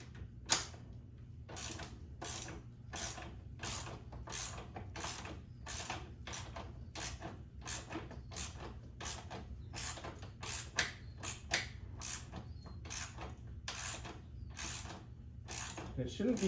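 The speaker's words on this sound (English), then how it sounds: "So I've got my torque wrench set to that." Torque wrench ratchets steadily as it tightens engine mount bolts while fitting a crash cage on a Kawasaki ZX6R, producing a long run of evenly spaced close clicks with a low hum underneath.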